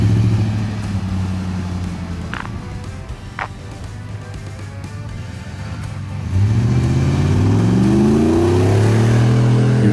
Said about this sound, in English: That deep, natural V8 rumble.